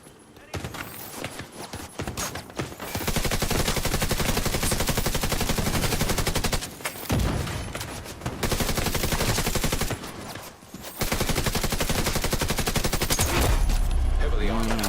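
Sustained automatic gunfire from the video game The Division 2 rattles loudly in long dense bursts, broken by a few short pauses, with a voice talking over it at times.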